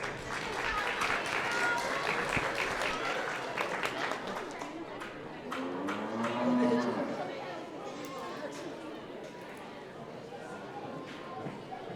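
Audience at a junior livestock show applauds the young exhibitors, a moderate round of clapping in a large show arena, with people talking and moving about beneath it.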